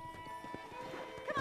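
Horse hooves clip-clop in the Red Dead Redemption video game, a run of soft, even footfalls over a steady background with a voice calling out near the end.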